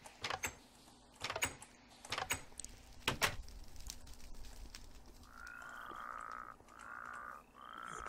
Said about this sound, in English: I've got a toad frog.